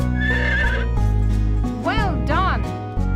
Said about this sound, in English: Fantastic! This is a horse.